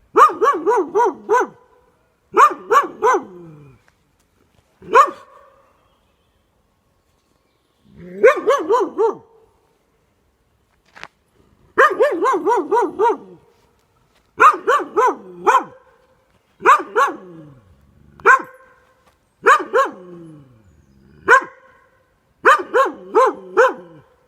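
A dog barks in repeated bursts of several sharp, close barks, separated by short silent pauses, with an occasional whimpering yip between volleys.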